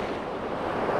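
Ocean swell surging against coastal rocks at a fishing spot, a close, continuous rushing wash of water mixed with wind buffeting over the microphone.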